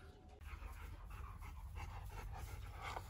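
A calm husky breathes in steady, rapid pants, close and fairly quiet against a soft background hum.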